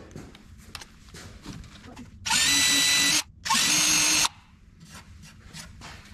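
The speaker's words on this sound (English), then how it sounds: "I'm going to go with the 16th, see if I can't break it." A power drill fitted with a 1/16-inch bit whines at full speed in two loud, close bursts of about a second each, separated by a brief pause, with quiet background noise before and after.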